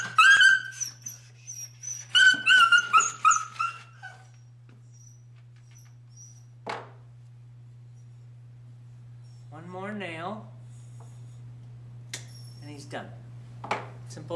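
A dog whimpers and yips while its nails are trimmed at a grooming session, a few high whines scattered among quiet stretches, with a person talking near the start over a steady low hum.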